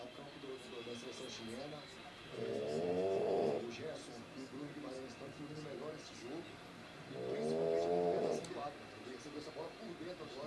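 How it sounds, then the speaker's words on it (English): A sleeping dog snores in two long, rasping breaths, each lasting about a second, spaced several seconds apart and fairly close, while a quiet background hum continues between them. "If you're hearing this snoring, this is my dog."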